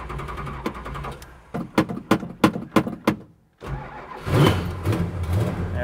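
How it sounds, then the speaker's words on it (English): A 1969 Plymouth Barracuda with an exhaust leak at the manifold cranks in a series of sharp rhythmic turns, pauses, then catches into a rough, loud, raspy idle close by. "Now this one sounds really bad because it's got a nasty exhaust leak at the manifold."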